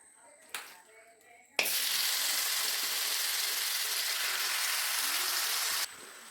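Oil hisses and sizzles loudly in a pan as chicken pieces drop in, a sudden burst of steady frying crackle that holds evenly for several seconds after a few quieter clinks.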